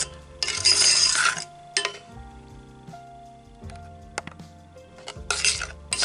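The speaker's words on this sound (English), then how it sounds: "I'm just stirring it until I can see that the sugar has dissolved" Sugar, water and butter are stirred together in a pan, with a spoon clinking and scraping against the pan in bursts, bright metallic taps between strokes, close up and with no talk.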